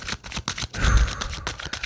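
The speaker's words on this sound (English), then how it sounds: "These were shuffled, but I'm going to shuffle them a little bit more." A deck of tarot cards is riffled and shuffled by hand, giving close, repeated papery flutters and taps in an uneven rhythm, with no talking.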